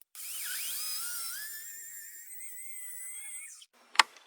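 A Forstner bit bores a hinge cup hole into a furniture door, giving a steady high whine that slowly bends in pitch for about three seconds. The whine stops, and a single sharp knock follows.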